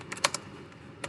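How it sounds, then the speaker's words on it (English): Typing on a computer keyboard: a quick cluster of close, light key clicks followed by one more isolated tap after a short gap. "we go to the PC, we come here and we type telnet"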